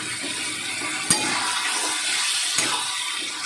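Water poured into hot frying spices for an egg curry, a loud steady sizzle and hiss with two sharp spitting pops, close up and with no talk.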